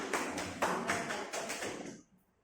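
Group clapping and patting thighs in a steady rhythm, about six or seven broad percussive hits of fairly even spacing, close and moderately loud, ending abruptly into near silence.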